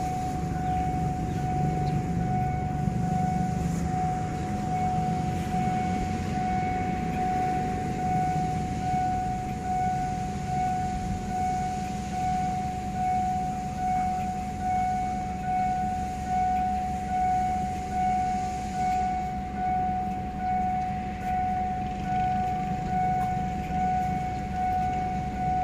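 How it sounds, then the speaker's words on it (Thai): A train whistle from locomotive 4045 sounds as a long, steady tone from far away, held under a constant wash of outdoor noise. "มีเสียงวีดดังมาไกลๆนะครับมาแล้วครับ"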